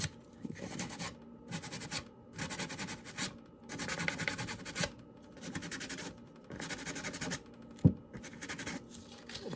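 Fine-grit sandpaper rubs by hand across a small wooden sign in rhythmic scratchy bursts, each stroke about a second long and separated by short pauses, close and fairly quiet.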